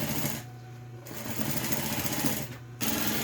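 A sewing machine stitches a flat top seam on fabric for a multipurpose pencil case, buzzing close and loud in two runs broken by short pauses.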